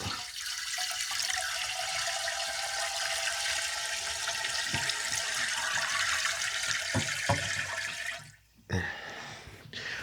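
Sanitizer solution pours and rushes steadily into the chute of a Carpigiani RTX Tru-2 batch freezer for several seconds, then briefly cuts off and splashes again near the end.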